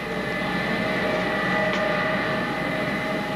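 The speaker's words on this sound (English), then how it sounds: "The 727 carrying Cooper and his fellow passengers swung out onto the airport runways in the early twilight." Boeing 727 airliner swinging out onto an airport runway at twilight, a steady, droning jet engine roar with a faint whine, continuous and fairly loud throughout with no voices.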